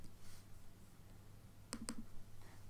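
Two quick, crisp clicks from a computer keyboard while typing Python code, faint and close against a quiet low hum.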